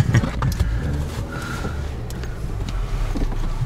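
A car's engine runs steadily on a Georgia road trip, with loud, continuous engine and road noise as it gets under way.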